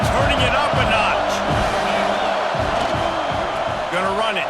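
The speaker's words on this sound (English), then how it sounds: "this crowd is turning it up a notch" Stadium crowd roaring in EA Sports College Football 26, a dense, steady wash of cheering and whoops filling the background while a commentator talks over it.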